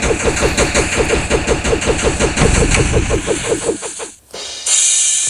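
Rapid automatic gunfire in a deer simulator video game rattles in a fast, steady stream, loud and close, then breaks off and gives way to a brief hiss.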